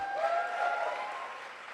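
An audience at a Haiti tech summit gives a short burst of applause for the Haitian soccer team, a broad wash of clapping with a faint tonal hum running through it.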